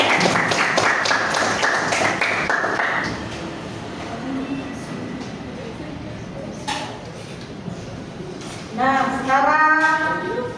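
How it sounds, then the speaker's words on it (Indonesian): Classroom applause for group B after its discussion presentation: a dense burst of clapping for about three seconds, then thinning into scattered taps as voices and room chatter take over. "kita beri tepuk tangan dulu ke kelompok B"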